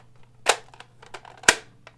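A magazine popped into a Nerf blaster, two sharp plastic clicks about a second apart with faint fiddling handling noises around them, close and quiet, no talking.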